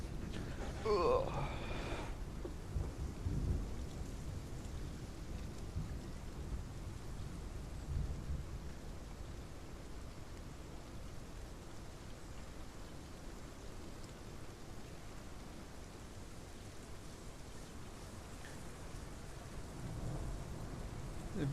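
Steady rain falling with low thunder rumbles inside a cave in the dinosaur game Path of Titans, a soft continuous hiss that holds for the whole stretch, with a few faint clicks near the start.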